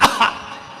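A voice imitates a raspy old woman's cough: two quick, throaty hacks close up, trailing into a reverberant tail.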